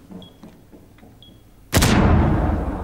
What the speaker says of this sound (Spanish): Alguien está disparando ahí